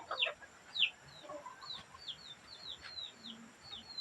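Chickens cluck and chirp at feeding time in a Philippine yard, repeated short calls near and at a distance over quiet background noise.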